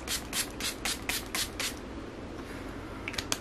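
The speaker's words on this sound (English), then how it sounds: "So I'm just going to spray it on my face now to absorb excess oil and keep the oils from coming through." A mattifying clay touch-up spray is pumped onto a face in about seven quick, rhythmic misting bursts, then a short pause and two more puffs, close and crisp.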